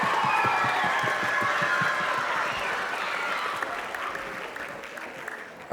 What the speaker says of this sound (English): can you please clap it out for Miss Brianna and Mrs. Stella on trombone and trumpet